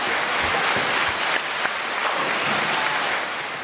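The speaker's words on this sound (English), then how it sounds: "Bottom left is your applause." An applause sound effect played from a soundboard: a dense, steady wash of clapping and crowd noise that holds at a constant level throughout.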